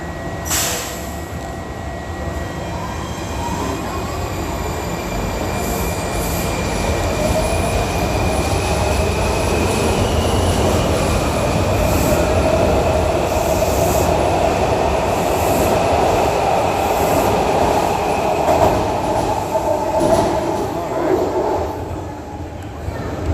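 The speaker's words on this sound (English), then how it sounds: "Oh, we're gonna get a new train." A Washington D.C. Metro Rail train rumbles continuously and close by as it arrives, wheels squealing and rails clacking as it rolls along.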